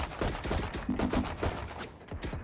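Shotgun gunfire in the tactical shooter Valorant, a quick cluster of sharp, punchy blasts at moderate volume, some in close succession, amid faint game sounds.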